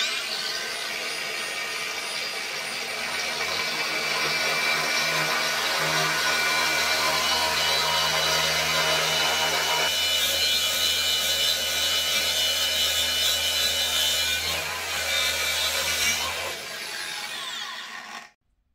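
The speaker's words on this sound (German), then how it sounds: "bis ich die Fliese durchbohrt habe" A drill with a diamond bit grinds steadily through tile at a relatively slow speed for a long stretch, a loud continuous whine that shifts pitch partway through and stops at the end.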